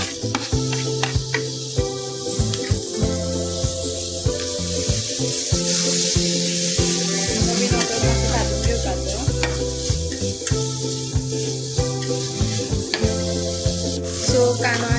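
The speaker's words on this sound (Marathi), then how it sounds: "आतां आमी घालुया हितून 1 टोमॅटो मोठो चिरलेलो." Chopped tomato sizzles steadily in a pan for a Goan mushroom xacuti, with a spoon stirring it close by. Scraping and clinking sit over the constant frying hiss, and no one speaks.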